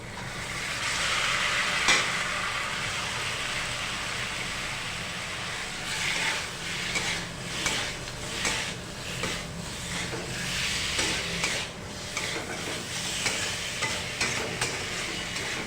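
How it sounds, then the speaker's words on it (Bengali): Ridge gourd, papaya and boiled potato being stirred into hot oil and spices in a pan for a light fish curry, giving a steady sizzle with repeated scraping strokes, close and continuous, with no talking. "ভালো করে নেড়েচেড়ে নিয়ে এর মধ্যে দিয়ে দেব ঝিঙে, পেঁপে এবং সিদ্ধ করে রাখা আলুটি"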